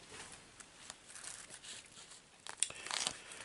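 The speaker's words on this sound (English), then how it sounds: "And as we shuffle the cards, you just simply ask." Soft papery rustling of cards being handled, ending in a brief louder riffling burst, close and quiet.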